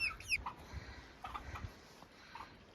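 Young chickens by a coop give faint, scattered clucks and chirps at a distance in a quiet winter farmyard.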